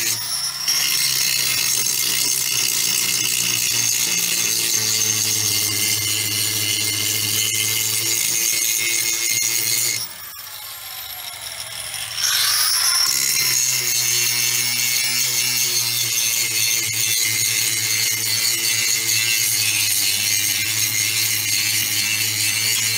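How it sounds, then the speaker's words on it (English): An angle grinder works steadily on the metal crossmember of an RV ahead of welding, a loud continuous high whine that dips briefly partway through before spinning back up to full pitch. "we're gonna go ahead and grind this up, clean this up, so that we can have a nice clean surface to weld to"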